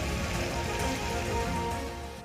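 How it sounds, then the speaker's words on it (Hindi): Heavy monsoon rain falling in the Uttarakhand mountains, a steady dense patter of drops on surfaces, moderately quiet and continuous, with no voices. "मैदानी क्षेत्रों के साथ साथ पर्वतीय क्षेत्रों में भी बारिश हो रही है।"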